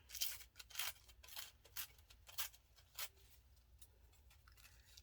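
Scissors snip through a paper napkin to cut out an Eiffel Tower motif for a mixed media junk journal, giving a series of quiet, crisp cuts in an irregular rhythm that fade out toward the end.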